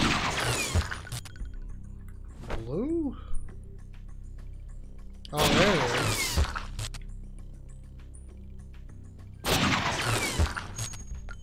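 Three loud, well-spaced gunshot bursts with shattering tails ring out in True Crime: New York City, each separated by several seconds of quieter game ambience and a short tonal sound effect.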